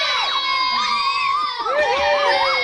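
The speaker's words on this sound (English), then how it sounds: "Jason got a big, a lot of applause" A group of cub scouts cheering and shouting in a studio, a dense, continuous high-pitched roar of young voices with no clear breaks.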